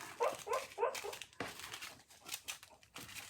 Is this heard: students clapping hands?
no